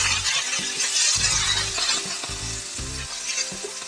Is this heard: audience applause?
no